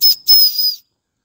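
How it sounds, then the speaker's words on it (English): The small steam whistle on a Wilesco toy steam roller gives two short, shrill blasts, the first a brief toot and the second longer and breathy, then it cuts off into silence. "So I'll give the whistle a go."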